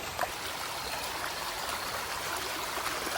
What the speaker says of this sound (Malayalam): കാട്ടിൽ വെള്ളപ്പൊക്കം